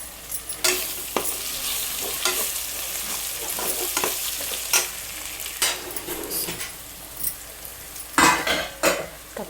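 Onions frying until crispy for mutton biryani, a steady close sizzle broken by repeated sharp scrapes and clinks of a spoon stirring against the pan.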